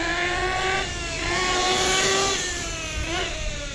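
A Losi 8T RC truck engine, its exhaust pipe just cleared of debris during break-in, runs close and loud, revving with a whining pitch that rises and falls across a few seconds, with no voices.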